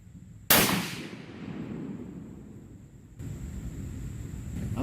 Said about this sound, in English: I'm gonna shoot next.